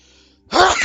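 A single sharp sneeze bursts out close by after a moment of near silence.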